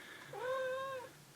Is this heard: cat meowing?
yes